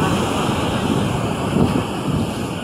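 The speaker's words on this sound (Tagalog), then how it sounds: "Lakas ang buhawi dito sa may dagat oh." Strong wind roars steadily over open sea during a waterspout in Aklan, Philippines, buffeting the microphone with a constant rushing noise and surf underneath.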